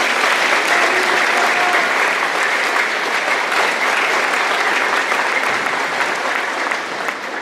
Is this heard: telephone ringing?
no